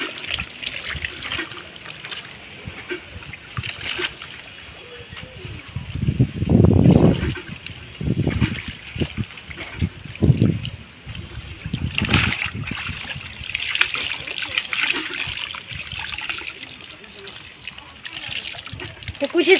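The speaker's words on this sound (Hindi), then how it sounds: "तो यहाँ पे थोड़ा पानी ले लेती हूँ पहले" Water from a filtered handpump supply poured and splashing in a container for washing clothes by hand, with a steady trickle, louder gushing surges in the middle, and someone talking over it.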